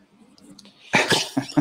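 A dog with congestive heart failure gives a few harsh, hacking coughs, close by, in quick bursts after a quiet moment of soft breathing.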